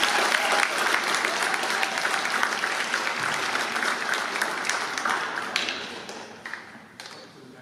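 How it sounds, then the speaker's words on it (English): An audience claps steadily for a cadet honoree at a high school NJROTC annual inspection ceremony: dense, sustained applause in an indoor hall that gradually thins out toward the end. "Let's give him a round of applause."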